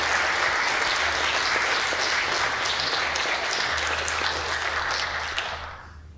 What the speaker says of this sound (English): give Donald a tremendous applause for the presentation